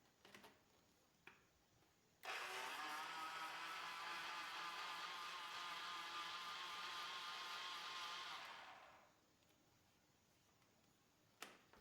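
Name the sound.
blender mixing cooled chocolate milk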